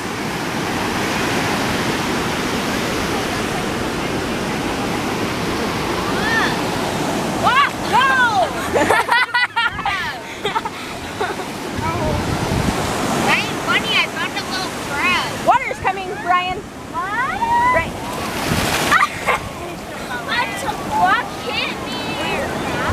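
Ocean waves wash and break along a beach in a steady broadband roar, with people talking and calling out over the surf during the second half.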